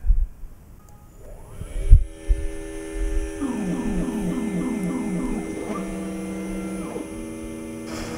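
A ShopBot Desktop CNC machine cuts holes in a board, its spindle and stepper motors producing a steady whine with repeating pulsed tones as the bit moves from hole to hole, after a few clunks and a low hum at the start.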